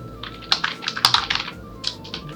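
Quick bursts of keystrokes on a computer keyboard, close and crisp, with a few short pauses between clusters of taps and no voices.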